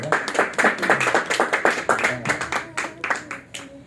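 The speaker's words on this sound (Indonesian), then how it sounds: "Oke, tepuk tangan buat saudari kita, Bu Parmila ya." Audience at a network development training event claps steadily and rhythmically in a room, fairly loud and continuous for the whole stretch, with no talking over it.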